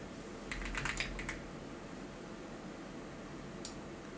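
A short burst of quick key clicks on a computer keyboard while editing in CapCut, a little over half a second of close, fairly soft taps, followed by quiet room hiss.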